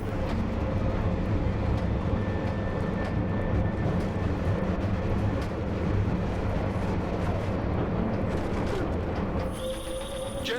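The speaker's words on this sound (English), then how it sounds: "you need to disable that chopper" Helicopter in Deus Ex: Mankind Divided during a sandstorm: a loud, continuous low mechanical roar and rumble that holds steady throughout, with a brief shift in tone near the end.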